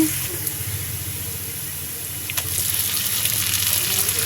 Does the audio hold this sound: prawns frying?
yes